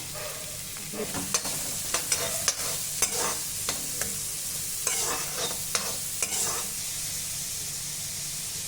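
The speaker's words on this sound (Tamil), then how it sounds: "ரெண்டு பச்சை மிளகா பொடியாக கட் பண்ணி வச்சுருக்கேன் அதையும் சேர்த்துக்கலாம் நல்லா வதக்கிக்கலாம்" Chopped green chillies sauté in a pan for masala bread with a steady, soft sizzle. Frequent clicks and scrapes from a stirring utensil punctuate the sizzle, and no voices are heard.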